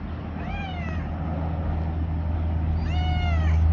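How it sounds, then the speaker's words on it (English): A cat meows twice, each a short rising-and-falling cry, with a low steady hum underneath and a pause between the calls. "You're a pretty little kitty."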